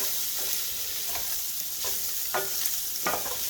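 Hawaiian-style Spam frying in a pan, sliced crisp with a reducing glaze, gives a steady close sizzle broken by several scraping stirs from a spoon against the pan.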